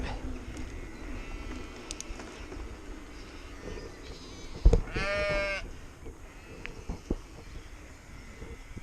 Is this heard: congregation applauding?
no